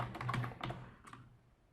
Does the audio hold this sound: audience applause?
no